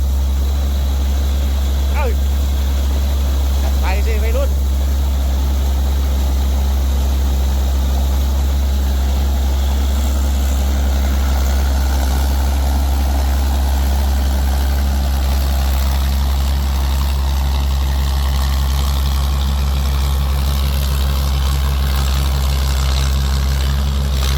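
A large rice harvester's engine drones on steadily and loudly for the whole stretch, a constant low hum with a few faint higher noises near the start.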